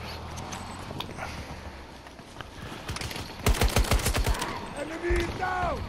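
Gunfire rattles in a Battlefield 2042 match on PS5, with a fast burst of automatic shots in the middle that is loud against steady game noise. A few scattered sounds follow, and there is no talk.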